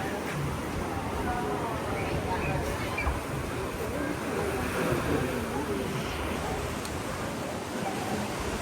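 Ocean surf at Laguna Beach washes in as a soft, steady broadband roar, fairly faint and distant, with a person talking over it.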